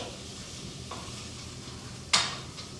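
Sweet potato, garlic and spice powders cooking in a pot, a soft steady sizzle with a faint stir around the middle and a sharper scrape of the utensil near the end, no voices.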